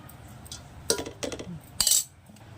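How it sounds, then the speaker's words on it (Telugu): Basmati rice is tipped into a cooking pot, giving a few short, light clinks and patters scattered over a couple of seconds at low volume against a quiet background. "రైస్ వేస్తున్నా చూడండి ఫ్రెండ్స్. బాస్మతి రైస్."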